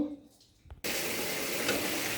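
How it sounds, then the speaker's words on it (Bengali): Onion, ginger and garlic frying in hot oil in a home kitchen, a quiet moment with a brief clatter, then a sudden loud steady sizzle that continues to the end. "এদিকে পেঁয়াজ আদা রসুন ভাজা করতেছি তেলে ভাজছি"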